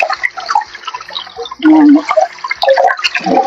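Tap water splashing and running over leaves being washed by hand in a kitchen basin, with irregular gurgles and bursts of pouring, close and fairly loud, with a brief spoken word near the end.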